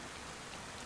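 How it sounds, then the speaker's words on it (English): Steady rain pours in Kingdom Come: Deliverance II, a dense, even hiss of falling water that fills the moment with no voices. "It's hard to grave? hear in this fucking rain and thunder."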